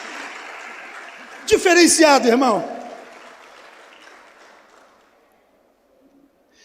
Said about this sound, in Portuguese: Aplaudam, de verdade